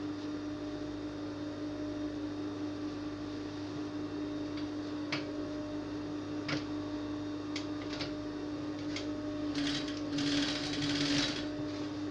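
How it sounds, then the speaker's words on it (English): A sewing machine stitches a dart on a pencil skirt, running with a steady whirring motor hum and fine rapid needle ticking, close and continuous, with a few light clicks toward the end. "Just sew your dart in."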